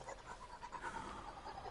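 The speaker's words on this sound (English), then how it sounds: "You hear my breathing?" Heavy, rapid panting breaths repeat steadily and close to the microphone throughout, with no talking over them.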